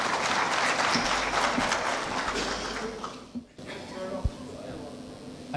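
An audience at a user conference claps loudly and densely to welcome a speaker on stage; the applause fades out midway, leaving quieter room noise with a stray thump.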